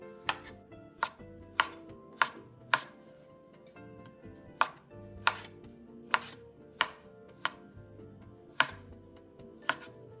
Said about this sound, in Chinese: 抹干后再切成约2厘米小块状